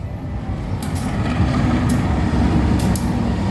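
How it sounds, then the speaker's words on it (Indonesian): A local Garut-line commuter train passes close by at a railway station, making a heavy, continuous low rumble that swells louder after the first second and holds steady, with faint metallic squeals above it. "Nah, ini dia kereta lokal ya."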